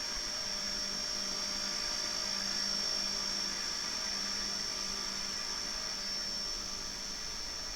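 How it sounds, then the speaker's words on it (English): A small model RC helicopter hovers steadily at about head height, giving a constant high-pitched rotor whine and motor hum that stays even throughout with no talking. "I turn the heli towards me, try and keep the nose pointing at me"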